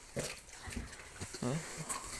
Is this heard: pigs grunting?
yes